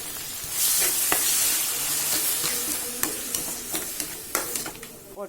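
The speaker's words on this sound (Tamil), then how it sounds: "இப்போ தக்காளியை போட்டுடலாம்." Tomatoes frying in a pan with garlic, dried red chillies and curry leaves for tomato rasam, giving a steady sizzle with scattered stirring clicks and spoon taps, fairly close and with no talking.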